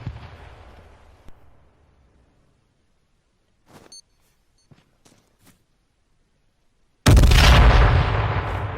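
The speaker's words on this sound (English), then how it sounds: "Frag grenade." A frag grenade in the survival shooter H1Z1 goes off in one sudden, loud, close explosion that booms and slowly rolls off, coming after a quiet stretch with a few faint clicks and thuds.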